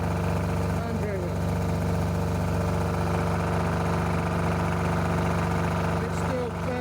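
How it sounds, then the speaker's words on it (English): A large air compressor powered by a big diesel generator runs steadily, a loud constant mechanical drone with a strong low hum and no change in pace throughout. "I've had to drag this massive compressor out of storage. This is running off a big diesel generator next to it."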